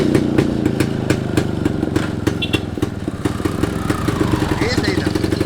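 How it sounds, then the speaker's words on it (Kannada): A motorcycle engine runs steadily at close range with rapid, throbbing firing pulses, rising in pitch toward the end as it is revved, with no clear start-up crank. "bike start ಮಾಡ್ಲೆ"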